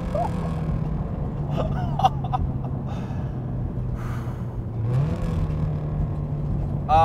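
A 600-horsepower Subaru STI pulls hard through a gear on the street, its engine note droning steadily and loud from inside the car, with a brief shift-like dip near the end before the pull resumes; no one talks.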